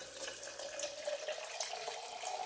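Water poured from a dispenser container into a drinking glass at home, a steady continuous stream with a rising fill tone, close and moderately loud throughout.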